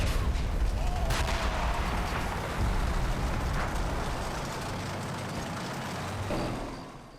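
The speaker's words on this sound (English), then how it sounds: "As the artillery barrage subsides by the end of the turn" Artillery barrage in the Combat Mission: Red Thunder war game, a dense continuous roar of rumbling blasts and crackling impacts with a few sharper bursts, loud throughout and easing off toward the end.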